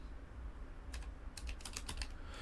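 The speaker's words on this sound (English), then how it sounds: "I was typing and it flipped around like that" Typing on a computer keyboard: a quiet stretch, then a quick run of crisp key clicks in uneven bursts over a steady background hum, with no voices.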